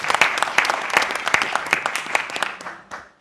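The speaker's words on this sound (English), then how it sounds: "A round of applause for all the" Audience applause for interfaith dialogue panelists at NSW Parliament, a room of clapping hands with several sharp louder claps, tapering off toward the end.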